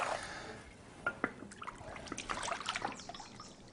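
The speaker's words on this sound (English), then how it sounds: "Adding some water, by the way, 6 cups." Six cups of water poured into sticky starter dough, a faint close trickle and dribble with small splashes and irregular liquid plops.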